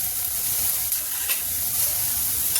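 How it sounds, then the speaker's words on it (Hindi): Onions frying in a pan over a high gas flame give off a steady, close, bright sizzle that holds evenly throughout, with no one talking. "प्याज थोड़ा सा और भूनेंगे, गैस को कर देते हैं तेज"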